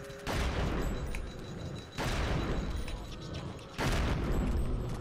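Gunshots from the GameCube horror game Eternal Darkness: Sanity's Requiem, three loud broadband blasts spaced about two seconds apart, each holding a dense roaring decay before the next shot.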